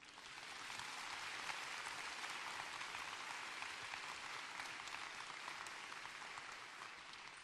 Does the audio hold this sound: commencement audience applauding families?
yes